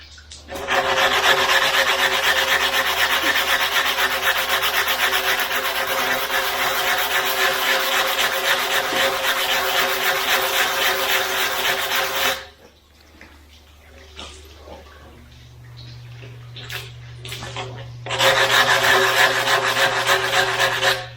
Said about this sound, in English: I'd rather sand it too